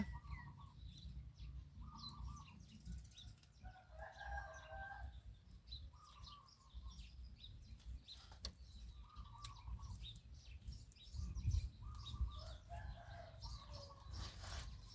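Roosters crow and birds call outdoors in a rural setting, with several short repeated calls at moderate distance over a steady low background rumble.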